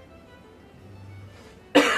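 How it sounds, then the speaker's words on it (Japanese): A person with a cold lets out one sharp cough close up near the end, after a stretch of quiet low hum. "咳がね止まらないんですよね。"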